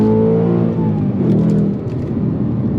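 A 2024 Ford Mustang GT's V8 pulls hard from inside the cabin, a deep throbbing engine roar with rising harmonic tones, loud and close throughout.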